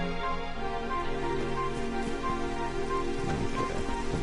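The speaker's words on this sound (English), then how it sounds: "It would have to go and start raining, wouldn't it?" Rain pours down steadily in the game Dragon Quest XI, a thick, constant patter of drops on surfaces that stays loud and even throughout, with no voices.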